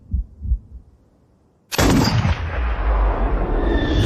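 A single sharp gunshot from a long-range 450-meter rifle shot bursts loudly after a near-silent pause, followed by a sustained rumbling roar of the bullet impact.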